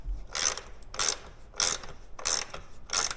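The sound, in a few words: 7/16 ratchet wrench tightening lag bolts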